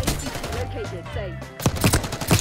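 Video game gunfire crackles in a quick burst of shots, strongest near the end after a brief lull, with game sounds layered around it and a voice faintly underneath.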